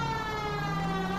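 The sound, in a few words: sirens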